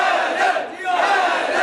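Crowd at a religious gathering chanting "Haidar" in unison, loud massed voices in two rhythmic surges with a brief dip between.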